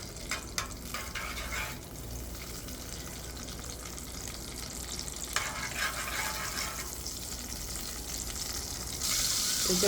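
Butter added to hot oil in a pot, a continuous close sizzle and crackle with brief clatters and a brighter hiss rising near the end, no talking.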